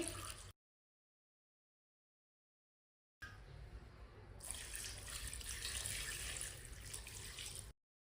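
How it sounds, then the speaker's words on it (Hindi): After a brief silence, three glasses of water pour steadily into a cooking pot of washed goat meat, a close, continuous splashing rush that stops abruptly. "3 गिलास पानी डाल लेंगे।"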